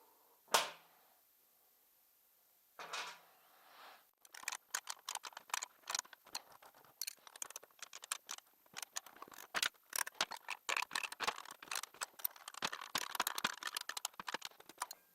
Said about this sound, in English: you can now tighten all the bolts here